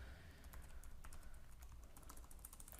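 Quiet, rapid clicking of keys on a computer keyboard while code is typed, a close, faint patter of irregular taps with no talk.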